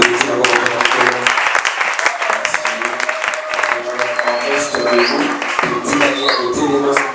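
A church congregation applauds steadily and loudly throughout, the dense clapping mixed with a musical backing and some voices.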